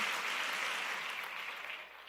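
Congregation applauding in a church service, a steady, even wash of many hands clapping, soft and somewhat distant, slowly fading.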